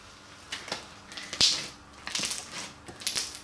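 Slime squeezed by hand gives off scattered, sharp little clicks and crackles, faint to moderate, in irregular bursts with a louder pop near the middle.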